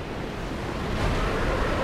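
Steady wash of water in a Dark Souls level, a broad continuous rushing noise like surf or a flowing drop, moderately loud and unbroken, with no voices.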